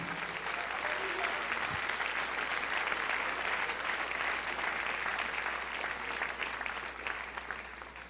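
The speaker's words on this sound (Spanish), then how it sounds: "Dale un aplauso al Rey." Congregation clapping during a church service, a fairly faint, steady patter of applause from a modest crowd that holds evenly throughout, with a low background hum underneath.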